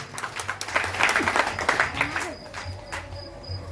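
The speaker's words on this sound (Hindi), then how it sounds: "आपकी जोरदार तालियां चाहिए।" Audience applause at a folk theatre and dance performance at the Ardh Kumbh in Simaria Dham, a dense patter of clapping that carries steadily for a few seconds and thins toward the end, heard alone without speech.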